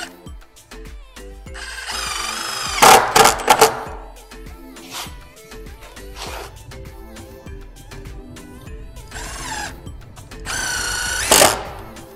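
A power drill drives 3-inch screws into a wooden frame for a robotics competition court, with two or three loud whirring bursts of varying pitch separated by quieter handling noise.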